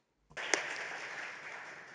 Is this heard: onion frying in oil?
no